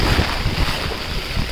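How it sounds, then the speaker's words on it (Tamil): Strong, steady wind roars and buffets the microphone outdoors near flooded water, a continuous loud rush with low gusty rumbles and no pauses. "எக்கச்சக்கமான காற்றுங்க."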